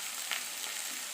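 Curry leaves and onions sauté in a pan with a faint, even sizzle and a soft stirring scrape, with no voices.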